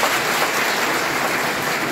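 Students in a college hall give their principal a brief burst of dense, steady applause at a Digboi College International Mother Language Day event.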